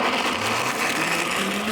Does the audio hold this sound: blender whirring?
yes